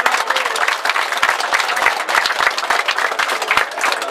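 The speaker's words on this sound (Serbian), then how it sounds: "pozdravite aplauzom" An outdoor crowd at a village gathering bursts into sustained, dense applause, many hands clapping loudly together without pause.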